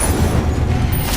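An Incendio fire spell cast in Hogwarts Legacy bursts out as a loud, deep whooshing boom that fills the short moment, with a rumbling low end and a brief fiery roar trailing off.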